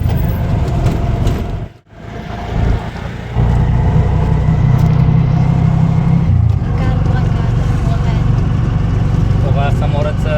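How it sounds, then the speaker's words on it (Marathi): An auto rickshaw drives along a road toward a temple at Shani Shingnapur, its engine a steady loud drone with a brief dip early on, while someone talks over it. "मंदिराच्या दिशेने आपण आपली रिक्षा घेऊन जात आहे"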